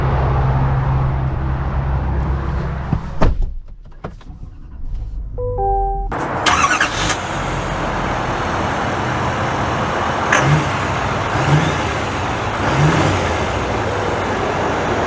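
A 2024 GMC Sierra 3500 Denali Ultimate pickup truck goes quiet, then a short chime sounds and a steady engine and road drone rises and continues as it sets off, heard from inside the cab.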